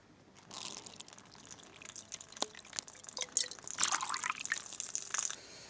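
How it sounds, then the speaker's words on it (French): Soaked parsley seeds drain through a coffee filter, giving faint irregular dripping and wet crackling that builds to a denser trickle toward the end, close up and quiet with no talking. "on passe nos graines, ici ça peut être dans une passoire mais c'est dans un filtre à café pour les séparer de l'eau"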